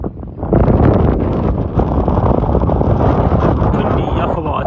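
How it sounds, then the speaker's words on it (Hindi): Cold wind blowing on a road near a bridge construction site in Mirpur at night, a loud, steady broadband rush buffeting the microphone throughout, with no clear voices. "ठंडी हवा चलन लगी है"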